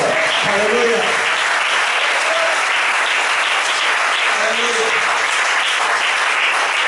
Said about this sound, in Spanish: ¿Cuánto le dan un fuerte aplauso al Señor?